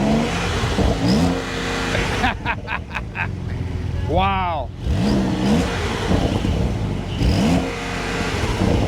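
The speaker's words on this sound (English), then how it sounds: "now let's hear the Turbo S" Porsche Turbo S engine blipped close by in a few quick revs and one long rising-and-falling sweep, over a steady idle rumble, with a brief voice reaction.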